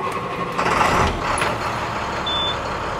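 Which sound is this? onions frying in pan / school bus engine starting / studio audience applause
school bus engine starting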